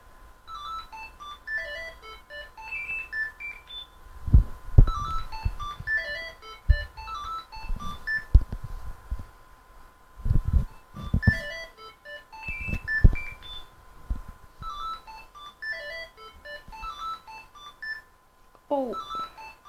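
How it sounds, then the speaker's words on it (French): A telephone rings in a French Minecraft-style gaming session, its repeated electronic tone pattern sounding in bursts over steady background game audio, with thumps and short noises in between and no speech over it. "c'est le téléphone qui sonne"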